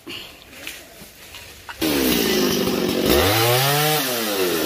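A chainsaw cuts through a large branch of a tree beside a church, starting after quiet chatter and running loud and steady close by, its pitch dipping and rising under load.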